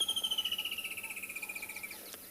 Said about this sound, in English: Some gorgeous sounds. Hear the woodland kingfisher.